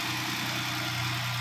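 Jeep Wrangler JK engine with original heads, once repaired after a broken valve and fitted with new exhaust, idling with a steady, continuous, even rumble.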